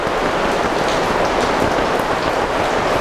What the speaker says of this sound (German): So ist die Situation hier in der Werkstatt, wenn es heftig regnet.